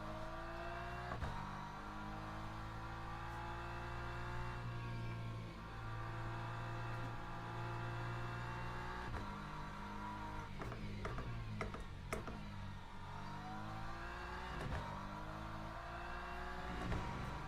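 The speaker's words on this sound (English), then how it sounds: "So we're in the BMW M4" BMW M4 race car engine in Le Mans Ultimate, a steady harmonic drone that rises and falls with throttle, with repeated gearshift clicks and revs climbing through the gears, heard alone.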